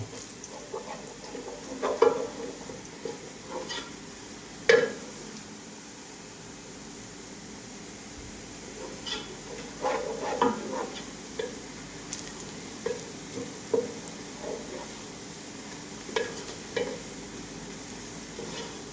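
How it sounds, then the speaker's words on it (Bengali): Onions frying in a pan for a Bengali fish dish, a steady broadband sizzle with intermittent scraping stir clicks, close and moderately loud, no talking. "এখন আমি পাঁচালগুলো সুন্দর করে পেঁয়াজগুলো ভাজি করতে হইব লাল করতে হইব"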